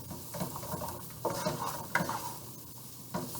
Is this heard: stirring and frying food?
yes